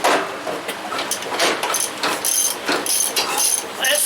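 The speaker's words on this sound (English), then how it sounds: "That sounds like a broken crankshaft or something. The connecting rod." A John Deere RX75 lawn tractor engine cranking and knocking, a loud irregular mechanical clatter of rapid bursts and ratcheting hits that keeps stopping and restarting.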